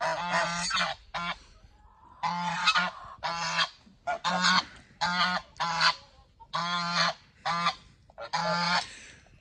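Several geese honk loudly and repeatedly nearby in harsh, clustered bursts with brief pauses between calls.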